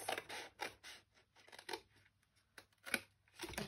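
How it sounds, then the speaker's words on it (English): Scissors cutting cardstock for a fold-flat gift box, a run of short, crisp snips in an irregular rhythm, close and fairly quiet, with little pauses between cuts. "Actually cut it this way, I find it a bit easier to cut it this way."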